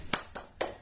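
Three sharp hand claps ring out in a quick rhythmic pattern of a children's clapping chant, crisp and close, with brief silence between them.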